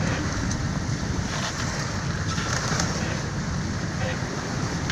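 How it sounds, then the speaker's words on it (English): Steady wind of about 23 knots and waves aboard a sailing boat at sea near the Azores, a constant broadband rush of wind over the microphone with washing water, unbroken throughout. "Wind seems pretty steady at the 23 knot mark."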